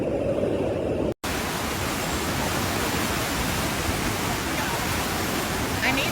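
Floodwater tearing through Pagosa Springs, Colorado like rapids after historic heavy rainfall, a loud, steady broadband roar that fills the scene and continues almost unbroken after a split-second cut near the start.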